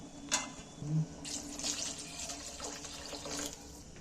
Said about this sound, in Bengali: তবে আমি আর একটু জল দেবো একটু।